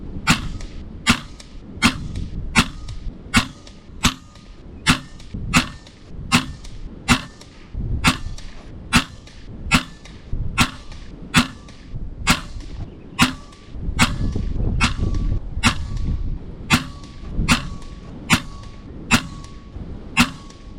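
An FX Hybrid slug air rifle fires about thirty sharp, evenly spaced shots at roughly two-thirds-second intervals, each a crisp close crack over a steady low background rumble, with no talking.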